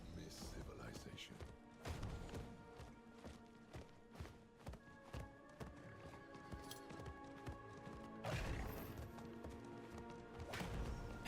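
Horse hooves gallop in Diablo IV, a rapid run of thudding beats on an open road under a game soundtrack, with a louder crash of steps partway through and someone talking at times.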